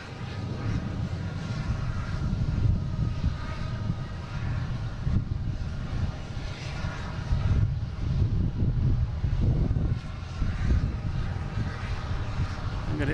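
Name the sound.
United Boeing 737 MAX 9 taking off to Newark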